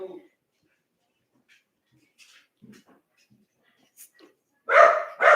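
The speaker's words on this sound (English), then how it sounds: "My dog distracting me." A dog barking indoors: faint scattered yips and small noises, then two louder, close barks at the end, with no clear speech over them.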